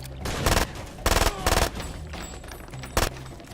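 Automatic gunfire in the shooter Far Cry 2, several loud bursts of rapid shots in quick succession over a busy game soundscape, with one last sharp burst near the end.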